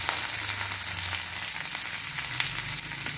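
Sliced onions and curry leaves fry in hot oil in a pan, a dense steady sizzle that carries throughout at close range with no talking.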